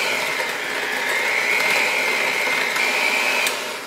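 Electric mixer blending almond biscotti batter, a steady close whirring drone that holds for several seconds and then eases off.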